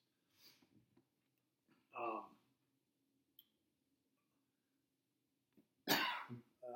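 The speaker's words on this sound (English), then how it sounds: "I got the coughs now." A few scattered coughs and throat-clearing sounds break up long stretches of near silence, with a sharper, louder cough near the end.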